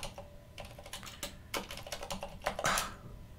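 Quick bursts of keystrokes on a computer keyboard as commands are typed into an Arch Linux-based system. The clicks come close and fairly loud in uneven clusters, with no talking.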